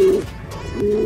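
Racing pigeons coo nearby at a club training loft, two short throaty hooting coos separated by a brief pause, fairly loud and close with no talking.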